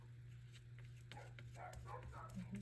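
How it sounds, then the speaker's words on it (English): Several dogs bark at someone passing the yard, with overlapping yips and barks over a steady low hum, fairly close and continuous. "So they continue to bark at people."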